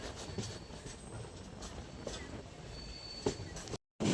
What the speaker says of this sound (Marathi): ट्रेन सुटली आता